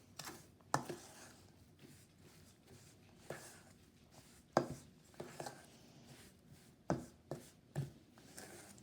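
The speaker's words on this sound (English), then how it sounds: "Now I will take and stir all 3 ingredients together to start forming my dough." A spoon stirs flour, salt and water together for salt dough, giving a quiet series of irregular soft scrapes and dull knocks against the bowl, close by, with no voices.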